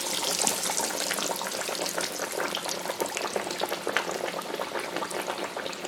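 Fish sizzles steadily in a fryer basket of hot oil, a dense continuous crackle and bubbling hiss with no voices over it.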